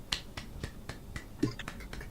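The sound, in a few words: clapping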